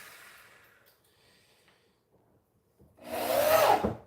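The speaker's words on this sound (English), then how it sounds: "Put these first two screws in." A power driver sinks a screw into a wooden drum kit platform in one short, close, loud whirring burst near the end, after a stretch of near silence and faint breathing.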